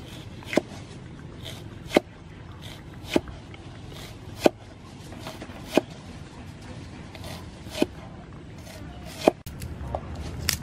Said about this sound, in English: Cut salad.